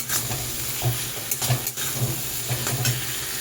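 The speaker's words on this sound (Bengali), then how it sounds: "একসাথে মশলাটা দিয়ে মাছটাকে বেশ একটু নেড়ে চেড়ে নিই" Fried fish stirred into spice paste in a pan, a soft sizzle broken by irregular spatula scrapes and knocks against the pan, close and moderately loud, no speech.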